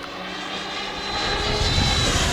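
An HSD Jets T-33 120mm EDF model jet cruises at 70% throttle on its maiden flight, giving off a loud, steady ducted-fan whine and rush that swells slightly as it passes near.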